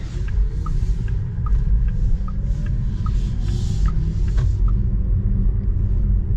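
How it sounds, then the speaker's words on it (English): A 2024 Porsche Taycan electric car drives along with a low road rumble and a faint, steady electric motor whir, a few soft tonal chirps rising and falling over the drone. "I like the little whirring sound it makes."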